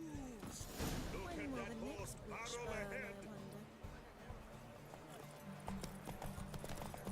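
Horse hooves clip-clopping in the video game The Witcher 3, a steady plodding rhythm mixed with game music and a brief whinny, with talk over it.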